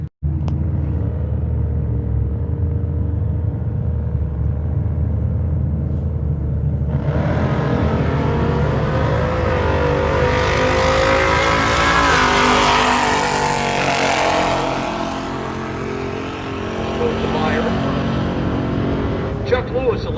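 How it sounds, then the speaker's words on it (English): A 1968 Camaro and a 1968 Fairlane idle with a low rumble at a drag strip, then launch into a loud roaring run with rising engine pitch, fading toward the end as a commentator talks over the noise. "Don Schandelmeyer out of Mesa, Arizona in a 1968 Camaro, facing Chuck Lewis from Phoenix in the 68 Fairlane."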